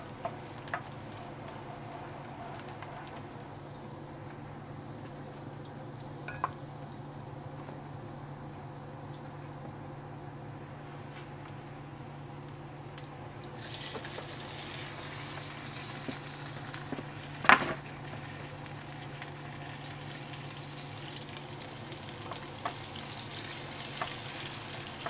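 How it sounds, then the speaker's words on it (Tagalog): Tomatoes sautéing in a pan for ginisang upo with sardines, a steady soft sizzle and frying hiss that brightens and grows louder midway, with a couple of faint clinks and one sharp utensil knock. "Ayan guys, ginigisa na natin yung ating kamatis"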